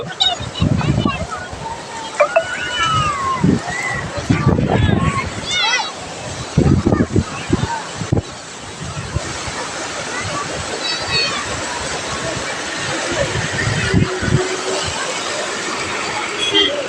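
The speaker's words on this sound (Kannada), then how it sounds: "ತುಂಬ ಜೋರಾಗಿ ಹೊಡಿತಾ ಇದೆ ಅಲೆಗಳು" Sea waves crash at Murdeshwara beach in loud, rushing bursts with surf hiss throughout, while voices talk and shout over the water close by.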